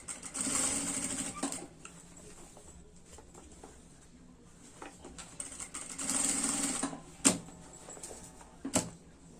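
Sewing machine stitching the lining of a baby stroller bag, running slowly in short bursts with a steady whirring hum, pauses and a few sharp knocks, close and alone with no talk.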